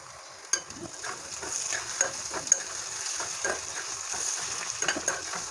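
Chopped ginger and garlic fry in a pan for an egg curry, a soft continuous sizzle broken by scraping stirring strokes and a few small sharp knocks of the utensil.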